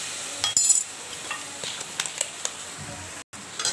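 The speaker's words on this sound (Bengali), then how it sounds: "এবার ভালো করে নাড়ব। আর রসুন বাটা দিয়ে দিলাম।" Garlic paste and turmeric are stirred in a cooking pan, with light clinks and scrapes of a utensil against the pan over a soft sizzle, fairly close and without talk.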